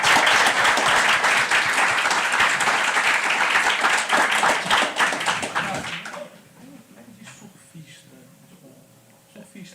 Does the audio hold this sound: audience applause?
yes